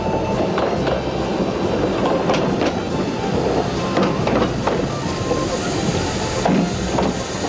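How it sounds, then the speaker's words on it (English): A historic electric tram runs at Whiteman Park near Perth with a steady, loud rolling rumble and repeated clickety-clack wheel knocks over the rails, heard close and continuous throughout. "something of early Aussie city life as well with our electric tramway"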